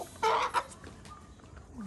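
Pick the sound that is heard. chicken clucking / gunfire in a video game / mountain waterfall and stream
chicken clucking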